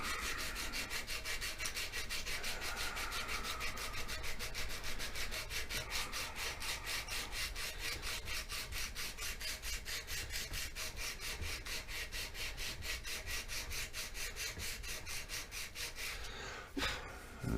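Steady, rapid back-and-forth rasping of sandpaper on aspen wood, close and continuous, ending with a brief clatter.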